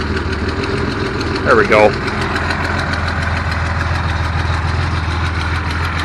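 A 1974 Datsun 260Z engine idles steadily with its choke cable pulled, a low continuous rumble throughout, with a brief squeak and a short spoken remark near the start.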